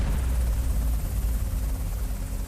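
An HS-60 Seahawk navy helicopter's rotor and engine roar steadily and loudly throughout, a dense low rumble with no break and no voices.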